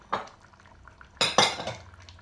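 Cauliflower vegetable curry stirred in a pot with a spoon, giving a few close metallic clinks and scrapes, one light tap and then a louder pair of clanks, with no talking.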